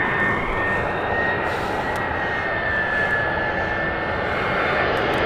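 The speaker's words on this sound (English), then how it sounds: "Aer Lingus take off." An Aer Lingus airliner taking off at Gatwick produces a loud, continuous jet engine roar that stays strong and steady from start to finish.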